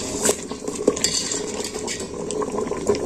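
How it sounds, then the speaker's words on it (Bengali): Vegetables and whole lentils stirred in a pot, with clattering utensil scrapes and knocks against metal over a low bubbling simmer, close and busy. "আবার আমি ঢাকাটা দিয়ে দিচ্ছি ভালো করে নেড়ে চেড়ে নিচ্ছি"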